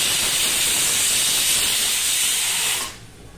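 A pressure cooker cooking chickpeas lets out a loud, steady hiss of escaping steam that holds for nearly three seconds before cutting off abruptly into quiet.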